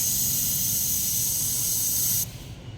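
A loud, steady hiss of air let out of a tire under pressure, close by, running continuously before dropping off sharply near the end.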